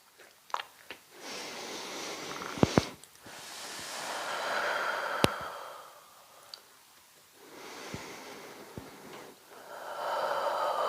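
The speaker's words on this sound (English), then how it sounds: "Take in some nice deep breaths." Slow, deep breaths drawn in and let out during a seated chair yoga session, soft airy inhales and exhales repeating in long waves with a few small clicks, close and quiet, with no talking.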